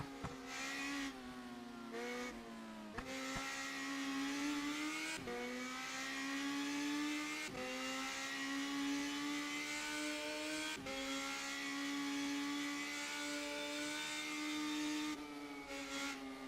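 Radical Cup race car in rFactor 2, its high-pitched engine revving and climbing through gears with quick shifts, plus tyre scrub while sliding through corners, heard from onboard and fairly steady.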